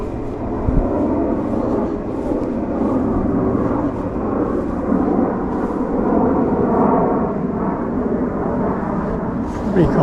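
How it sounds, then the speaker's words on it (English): Steady broadband roar of two RAF jets passing overhead in close formation, heard from a riverbank on the Middle Level waterways, a continuous rumble sustained throughout at moderate distance. "it's two RAF jets there in close formation"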